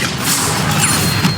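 Loud magical spell effects crash and burst in Hogwarts Legacy, a dense cluster of whooshing impacts and smashing blasts packed into a short, constant barrage.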